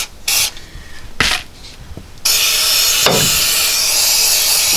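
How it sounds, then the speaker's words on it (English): Fluid Film rust inhibitor sprayed inside the rear frame rail of a Chevy Colorado pickup, starting with short bursts of hiss and then a loud, continuous close spray lasting several seconds. "take some fluid film, just give it a tss in there to coat the inside of this back frame rail"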